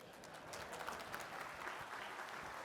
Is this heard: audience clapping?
yes